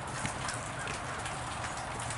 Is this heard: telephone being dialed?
no